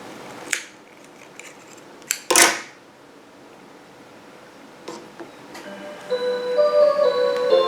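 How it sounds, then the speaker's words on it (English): Scissors make a few sharp, separate snips cutting a loose yarn end during a crochet project. Quiet pauses fall between the cuts, and a faint tonal sound follows near the end. "I'm going to go ahead and cut my loose yarn end now"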